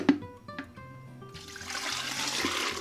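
Water pours from a big pitcher onto a table, beginning with a few clinks and drips and then a steady splashing rush that grows fuller toward the end.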